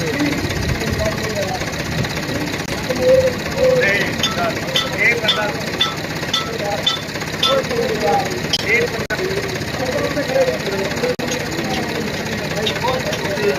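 A tractor engine chugs and idles with a knocking rhythm during a village tractor tug-of-war, under loud crowd voices and announcements throughout.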